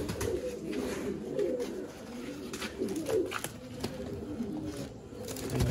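Pigeons kept by a fancier in Sialkot, Pakistan, coo softly and steadily, with low burbling calls repeating over a quiet background and no talk.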